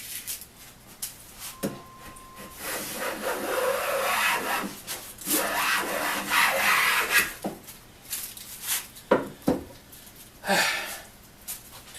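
A Union transitional hand plane with a wooden body pushed across a board, pulling off shavings in repeated rasping strokes of uneven length, close and moderately loud with short pauses between passes.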